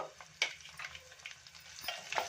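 Curry leaves and broken red chillies frying in oil for a palya, a soft steady sizzle with a few scraping stirs and one sharper clatter, quiet and close with no talk.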